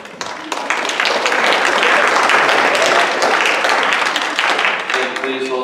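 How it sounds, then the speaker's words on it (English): An audience applauds at the Nauset Winter Sports Awards 2019 ceremony as team members are introduced. The clapping is loud, dense and sustained for the whole stretch, easing slightly near the end. "please hold your applause to the end so we can get through all of these"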